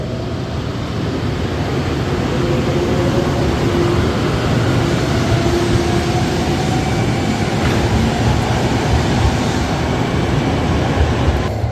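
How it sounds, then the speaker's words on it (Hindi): A Nozomi Shinkansen bullet train bound for Tokyo rushes past, a loud, steady roaring whoosh of wind and rails that holds for about twelve seconds with no voices. "और ये गई ये बुलेट ट्रेन फॉर टोक्यो।"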